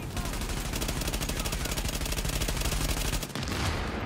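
Rapid automatic gunfire in The Division video game rattles in dense, steady bursts, loud and close, with a brief break before firing resumes.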